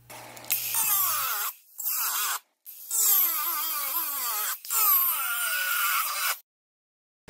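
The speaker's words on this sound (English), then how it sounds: "I think I'll just get my angle grinder," An angle grinder cutting a small piece out for a plug, heard as loud, high whining bursts with rising and falling pitch, separated by short silences.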